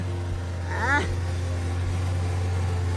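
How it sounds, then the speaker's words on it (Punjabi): An engine, kept revving after starting, runs at a steady, low rumbling hum throughout, with a brief higher-pitched sound breaking in near the start. "ਰੇਸ ਦੇ ਹੀ ਰੱਖ ਬਈ ਰੇਸ ਦੇ ਹੀ ਰੱਖ"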